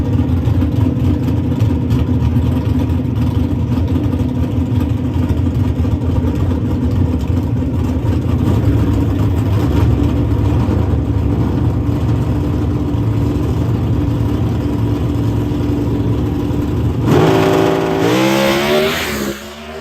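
A pro stock drag racing car gives a loud, sustained engine roar at a drag strip. The strong, steady blare holds for most of the clip, then shifts in tone near the end as the car pulls away.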